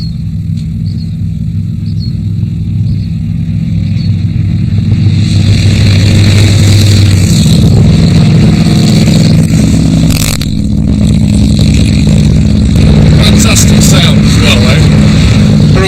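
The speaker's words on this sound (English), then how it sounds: "Oh, here's some bikers. They're all coming, look." Several motorcycles ride past together on California's Highway One in fog, their engines building to a steady loud roar alongside continuous wind rumble, with people talking over the noise.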